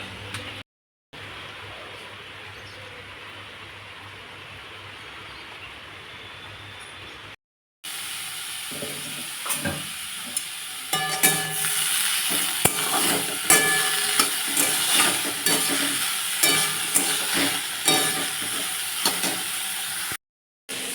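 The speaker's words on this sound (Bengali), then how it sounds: "এখানে হচ্ছে বেগুন হচ্ছে পেঁয়াজ দিয়ে হচ্ছে ভাজা" Eggplant and onion fry in a pan with a steady, loud sizzle and repeated scraping stirs, broken by brief silent gaps.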